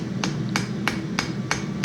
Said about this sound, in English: So we're working on the spine side here, hammering down into